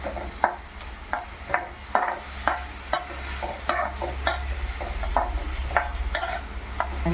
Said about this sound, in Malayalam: തക്കാളി, ആവശ്യത്തിന് ഉപ്പ്, നന്നായി ഇളക്കി കൊടുക്കുക.